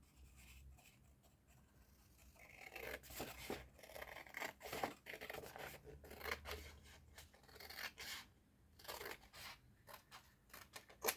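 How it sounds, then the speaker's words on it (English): Scissors snip through designer series paper close by, a run of repeated quiet crisp cuts and rustles with short pauses, no talking. "So cut all the way down."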